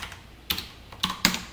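Keys on a computer keyboard clack during coding: a few sharp, separate keystrokes close up, spaced irregularly over a quiet background.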